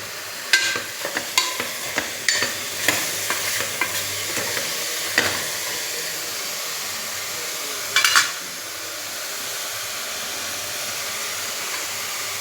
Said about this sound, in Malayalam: ഒന്ന് കുടഞ്ഞു കൊടുക്കാൻ ഇളക്കാൻ മതിയാകും. എന്നിട്ട് ഒന്ന് ചൂടായി വരട്ടെ.